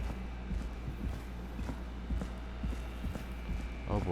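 Slow, steady footsteps of the Whistling Man in the horror game Killer Frequency, a series of soft, evenly spaced thuds pacing forward at moderate distance over a low droning hum.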